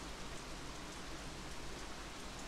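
Steady rain pours throughout a scene in the video game Bayonetta 2, a soft, even hiss of drops on surfaces with no talking.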